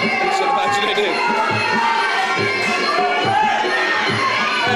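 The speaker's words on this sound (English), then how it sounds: "And the crowd cheering Ryan on" Crowd noise from a live fight event, a dense, steady roar of many voices cheering and shouting throughout, with children's shouts mixed in at close-to-middle distance.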